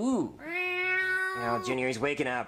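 A house cat meows loudly and near in a drawn-out, wavering cry beneath an excited voice talking over it.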